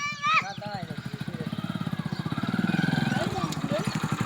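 A motorcycle engine putters in a steady rapid rhythm close by, revving slightly, while a person speaks over it at the start.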